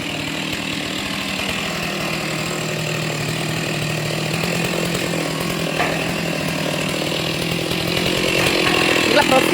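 A chainsaw cuts through a tree, its engine droning steadily and growing slightly louder toward the end, while people talk over it.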